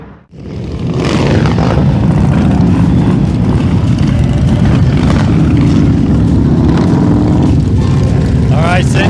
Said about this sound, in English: the bikes are leaving